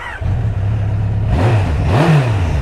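A Kawasaki KZ1000 motorcycle with a 1000cc Ninja engine in a cruiser frame idles with a steady low rumble, then blips the throttle twice, the revs swelling and falling close and loud.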